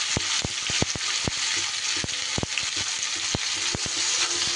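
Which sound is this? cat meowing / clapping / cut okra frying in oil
cut okra frying in oil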